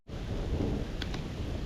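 Heavy rain pours steadily during a thunderstorm at a gravel-pit lake just after hail has stopped, a dense, loud, unbroken hiss with no pauses.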